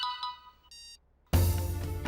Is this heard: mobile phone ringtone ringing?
yes